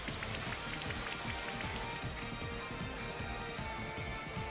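Steady, heavy rain pours across a surface in a Pokémon battle video game as the Rain Dance move takes effect, a dense continuous patter that fills the whole stretch at an even, loud level.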